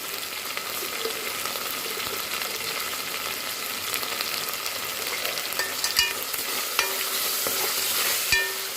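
Ginger garlic paste sautés in a pan with a continuous, even frying sizzle, broken by a few sharp scrapes and clinks of stirring near the end.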